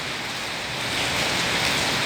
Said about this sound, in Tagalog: Ayan, maulan.